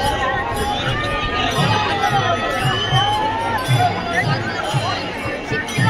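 A large crowd at Pandharpur fills the air with dense, close babble, scattered shouts and cheering that never let up. A voice speaks over the hubbub.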